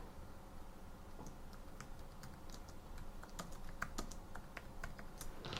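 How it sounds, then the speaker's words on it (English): Quiet, close typing on a computer keyboard, a short irregular run of light key clicks over faint room noise. "And I type, hello."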